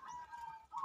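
A perkutut, or zebra dove, gives a brief, soft cooing call at moderate distance, with a short pause before the call resumes.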